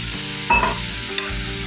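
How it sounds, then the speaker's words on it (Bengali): Water splashes into hot oil with ginger-garlic paste, green chilli and spices for potol, giving a short burst of loud sizzling that settles into a steady close hiss with a faint clink, no voices. "এখানে আমি জল দিয়ে দেবো"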